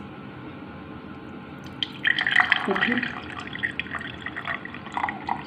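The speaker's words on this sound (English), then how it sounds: "Slowly and slowly water is going to be filtered." Dirty water trickling through a muslin-cloth strainer into a glass, a soft uneven patter of drips and splashes that picks up after the first two seconds, with a brief spoken word.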